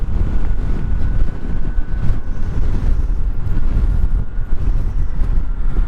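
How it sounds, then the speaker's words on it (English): Steady, loud wind buffeting roars over the microphone while riding an electric commuter motorcycle, a dense rumbling rush that continues unbroken with no voices. "Jeez, this wind sucks."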